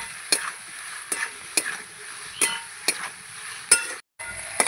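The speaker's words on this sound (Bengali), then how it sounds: "এবার আমি গাঠি কচু আর আলু এই মশলার সঙ্গে ভালো করে কষাতে থাকবো।" Taro and potatoes being stir-fried with spices in a pan: a faint low sizzle under a string of sharp spatula scrapes and clinks against the pan, roughly one every half second to a second.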